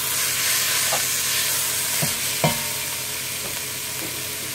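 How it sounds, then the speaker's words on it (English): Ground beef browns in a pot for homemade chili, with a steady hiss of frying and sizzling. A few soft spoon scrapes and taps stand out above it, including one clearer knock near the middle. "we're going to start our pot rather, and we're going to throw this ground beef in there"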